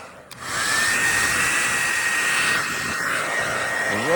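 A heat gun blows hot air over RV roof repair material and the roof surface, a loud, steady, close whooshing roar that runs unbroken after a short start.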